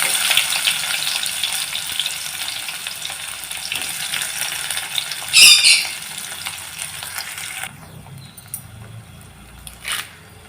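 Small shallots drop into hot oil that already holds fenugreek seeds and hiss in a loud, steady sizzle as a seer fish curry is started. The frying quiets near the end after a brief stir-like clatter, with no speech.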